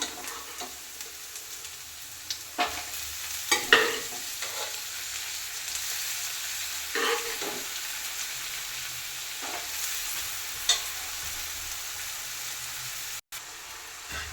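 Boiled green gram being stirred with roasted onions in a pan on the stove, a low steady sizzle with occasional clinks and scrapes of a spoon against the pan, close and without voices.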